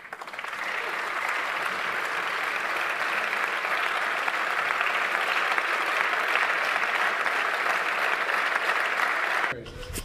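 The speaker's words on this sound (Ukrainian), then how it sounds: "Парламентарі аплодують стоячи." Members of parliament rise in a standing ovation, a dense, steady roar of clapping from a large chamber that holds loud and unbroken for about nine and a half seconds before cutting off abruptly.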